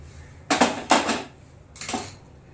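A spoon stirs green tomato pachadi in a metal pot, three loud clanking, scraping bursts close by with short pauses between them.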